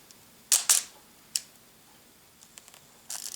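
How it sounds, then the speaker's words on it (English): A classic film camera's shutter release fires with crisp mechanical clicks, a quick double snap followed by a single sharper click, then faint ticks and a soft whirring rustle, close and quiet. "so you have that really nice shutter there"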